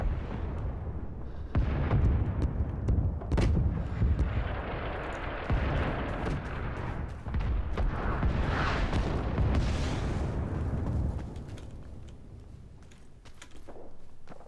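Napalm strikes in the Vietnam War shooter Rising Storm 2: Vietnam: deep rolling explosions and a sustained fiery roar, with sharp gunfire cracks scattered through the dense battlefield din.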